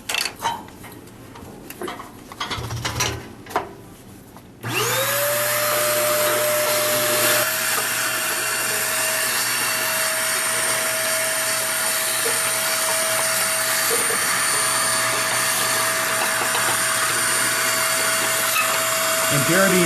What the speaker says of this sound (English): This can be best done with a vacuum cleaner.